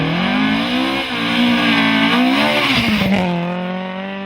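Opel Ascona historic rally car on a night stage, its engine revving hard and steadily close by, pitch climbing and dipping through gear changes and easing off near the end.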